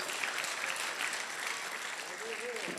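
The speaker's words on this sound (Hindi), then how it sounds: "भाई तालियां कमजोर है घनश्याम भाई के लिए" Audience at the Bhiwani Gaurav Samman 2024 honour ceremony applauds for Ghanshyam, a steady, moderately quiet wash of crowd clapping with a voice speaking over it near the end.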